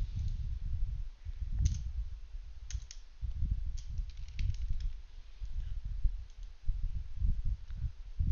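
Computer mouse clicking on a Windows PC, quick soft clicks scattered irregularly and faint under a low room hum.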